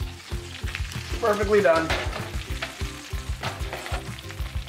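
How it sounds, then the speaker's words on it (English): Bacon strips frying in a pan, a loud close crackling sizzle with rhythmic scraping and turning sounds; a voice speaks briefly over it. "Here comes the bacon. Look at that bacon."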